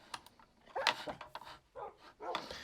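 Several dogs in a video game with a zombie setting bark in short, irregular bursts, some yips mixed in, fairly faint against a quiet background.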